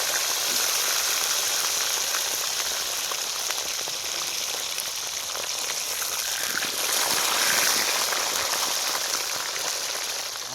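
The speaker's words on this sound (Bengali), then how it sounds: "তেল তো প্রচুর গরম হয়ে গেছে মনে হচ্ছে হুম আওয়াজ দিচ্ছে" Very hot oil crackles and sizzles in a pan while potatoes fry. It is a dense, continuous, rain-like hiss at steady moderate loudness, swelling slightly near the end, with no voices.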